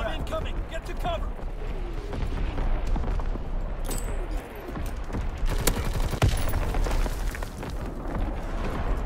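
Enemy artillery bombardment in the Call of Duty WWII video game, a dense continuous barrage of booms and crackling gunfire, loud and sustained, with radio voice callouts mixed in.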